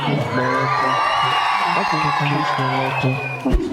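A group of children cheering and shouting together, loud and continuous for a few seconds, with a deeper voice cutting in near the end.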